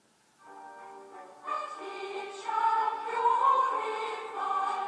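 Voices sing the slower quarter-and-eighth-note opening melody of "And He Shall Purify" from Handel's Messiah, entering one after another and building into layered, sustained choral lines, clear and alone.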